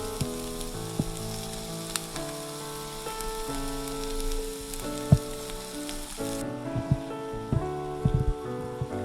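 An onion mixture for oats pizza frying in a lightly heated pan, a continuous crackling sizzle with scattered spoon taps and stirring clicks, fairly close and steady throughout.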